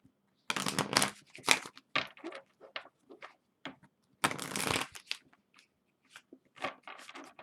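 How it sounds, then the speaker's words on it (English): Tarot cards shuffled by hand in a quiet room, with close crisp riffling bursts and papery flicks in an irregular rhythm and short pauses between them. "Very interesting shuffle."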